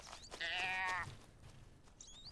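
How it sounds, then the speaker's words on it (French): A single clear sheep bleat rings out in the video game The Gold River Project, followed by fainter high bird-like calls against a quiet outdoor ambience. "J'ai entendu un bruit de mouton."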